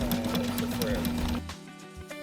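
A Sailrite sewing machine runs a zigzag stitch across a sail patch during a dockside repair, its rapid steady clatter filling most of the moment before stopping abruptly, followed by a few faint knocks.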